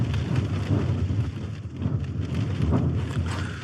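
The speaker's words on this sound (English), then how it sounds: "I'm sure you can hear that wind as well." Strong wind buffets a bivvy and tarp campsite with heavy rain, producing a steady roaring rush and low microphone rumble throughout, with no voices.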